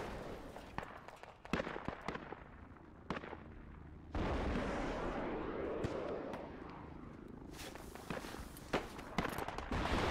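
Rockets fire in a video game as a string of sharp booming blasts and cracks, some close and loud, others distant, over a rumbling battlefield din with a sustained roar in the middle.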